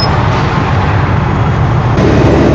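Heavy traffic on a busy road, cars, buses and trucks passing close by in a loud continuous roar of engines and tyre noise with no pauses.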